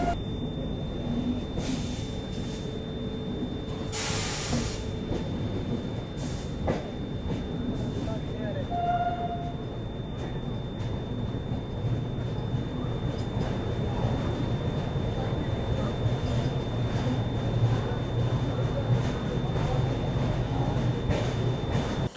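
A passenger train rolls along a scenic rail route in Odisha, its steady rumble and rhythmic clatter continuous and fairly close, with a few brief louder bursts over the run.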